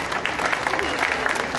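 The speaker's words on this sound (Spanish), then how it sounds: "Un fuerte aplauso para nuestra nueva soberana Isela I, reina de la 22ª Feria Nacional del Piteado Cotlán 2013." Short burst of audience applause at a fair queen coronation in Colotlán, Jalisco, steady clapping from a crowd with some voices mixed in.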